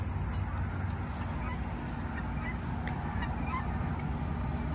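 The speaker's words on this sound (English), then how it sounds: "Oh, it's the guinea fowl. That's the guinea fowl noise." Guinea fowl calling outdoors, a steady run of harsh repeated cries set against a constant high insect-like whine and a low background rumble.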